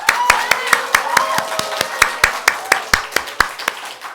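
A church congregation at a Sunday morning Korean worship service claps in a steady, fast rhythm of sharp hand claps, with a voice speaking or singing over the clapping.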